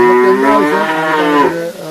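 A cow moos loudly and close by, one long drawn-out low call that holds steady before trailing off, with nothing else audible.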